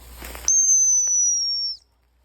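A sharp, loud single whistle blast used as a sit command for a dog during training in the woods, held steady for just over a second, then stopping into quiet.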